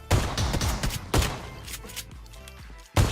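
Shotgun blasts in a video game, a burst of loud, sharp booms near the start followed by scattered thuds and another blast at the end, with game effects underneath.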